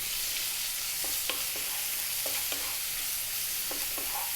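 Onion with garlic-ginger paste frying in a pan over just above medium heat, a steady broad sizzle with intermittent spoon-stirring scrapes at a close, even level, no voices.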